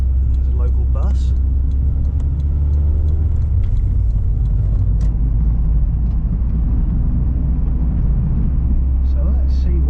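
A car's cabin fills with a constant deep road rumble and tyre roar as it drives through English roads and roundabouts near a town, loud and unbroken throughout.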